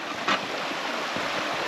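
A crystal-clear river on Dartmoor flows beside a walking trail, giving a soft, steady rush of water close by, with a brief brighter splash near the start.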